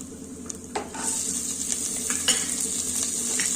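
Coriander seeds, garlic and green chillies fry in hot oil in a pan, giving a steady close sizzle with occasional stirring scrapes and light clinks of a utensil throughout.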